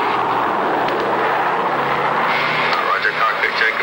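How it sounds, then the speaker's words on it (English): A C-124 transport plane drones in flight through an ice fog mountain range in a vintage commercial, its steady engine roar continuous and loud, with a faint radio-style tone partly over it. "Our C-124 is flying totally blind through a treacherous ice fog mountain range"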